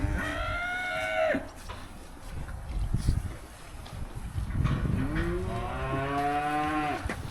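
Calves on a beef farm moo loudly and nearby, one long low call at the start and another drawn-out moo near the end, with shuffling and barn noise in between.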